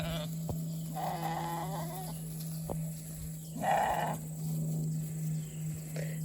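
A few Katahdin sheep bleat, one call early and a louder one near the middle, over a steady low mechanical hum.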